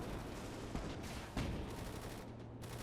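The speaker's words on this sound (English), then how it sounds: "Hear that distant gunshots." Distant gunfire in the video game Gates of Hell during a large tank and infantry battle, a few faint scattered shots under a steady background rumble of battle.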